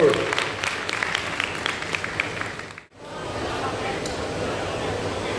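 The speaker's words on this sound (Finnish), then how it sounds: "Noin aplodit, Erik Smedsrud." Applause from an audience at a glass-making competition, a dense crowd clapping that ends abruptly, then room murmur under a voice.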